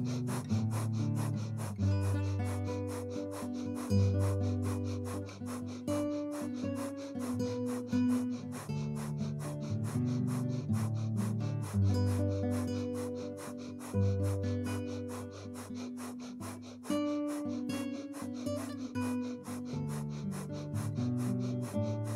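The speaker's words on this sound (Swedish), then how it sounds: "de två sista minuterna så ska vi eldandas igen" Rapid, forceful breath-of-fire exhalations from a pranayama breathing exercise pulse in a steady, even rhythm throughout, close and continuous, over a sustained musical background.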